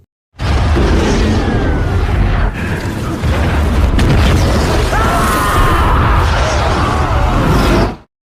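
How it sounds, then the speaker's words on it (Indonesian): A massive, roaring explosion of an oil refinery that rumbles on for several seconds, loud and dense with crackling debris and deep booming throughout. "akhirnya terjadilah ledakan yang super dahsyat"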